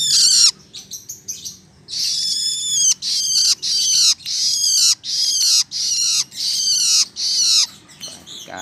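A long-tailed shrike (cendet) chick calls close by in a rhythmic run of about ten harsh, raspy squawks, each under a second long, separated by short pauses, with no talking.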